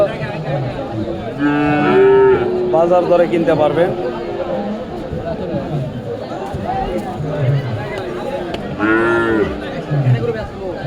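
Calves moo loudly a couple of times amid a busy cattle market crowd, with people talking and chattering nearby throughout.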